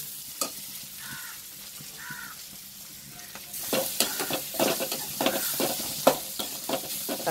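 Onion and tomato sauté in a pan with a soft steady sizzle that grows louder and busier partway through, with utensil scrapes and clicks and a crow cawing faintly at the start.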